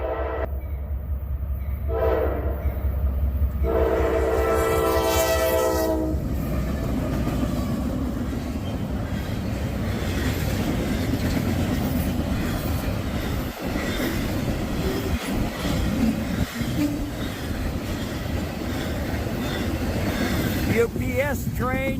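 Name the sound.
freight train 269 passing by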